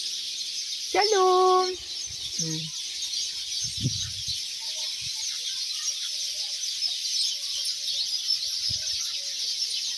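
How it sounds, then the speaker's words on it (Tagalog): About a hundred small birds chirp in a tree, a dense, steady high twitter that fills the background throughout, while a rooster crows once early on and a voice briefly speaks. "Maliit lang na ibon. Maliliit na ibon. Ang dami."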